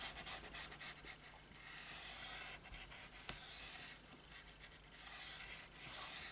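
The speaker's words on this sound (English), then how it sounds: "So bone folder now in, and give that a really good burnish down." A bone folder is rubbed firmly back and forth over glued paper to burnish it down, a close, soft, continuous scraping and rasping with no speech.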